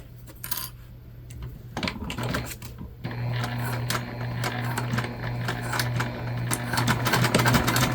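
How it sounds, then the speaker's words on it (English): A sewing machine stitches ripstop fabric layers together with a rapid, clattering hum, close by and steady. Small metallic clicks come before it starts, and faint talk is mixed in. "And then we're going to stitch together"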